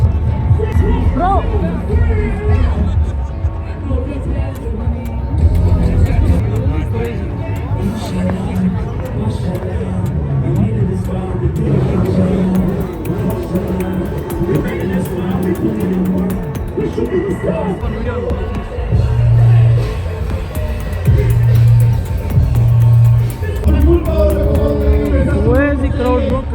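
A large, noisy crowd mills around near the stage at a motorcycle festival in Goa, with a steady babble of voices, background music and heavy low rumble throughout. People talk nearby.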